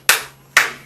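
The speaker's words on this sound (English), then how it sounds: "clap, clap, like little mechanical monkeys" Two sharp hand claps about half a second apart, close and crisp, each with a short decay, and no voices.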